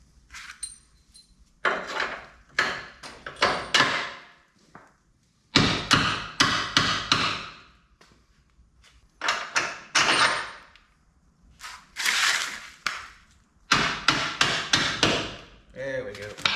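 Hammer tapping 15/16 bolts into tight bushings while installing a QA1 front suspension kit on a GMT400 Chevy truck, with loud metallic strikes in repeated bursts separated by short pauses, close up.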